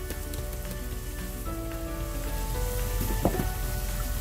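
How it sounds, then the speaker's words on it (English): Tomatoes with a little salt go into a pan for Kerala beef chukka, giving a steady, moderate sizzle and crackle that continues evenly throughout, with a few brief clinks near the end. "I'm now adding tomatoes with a little salt."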